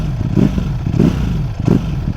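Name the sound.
Ducati V4 motorcycle exhaust at low revs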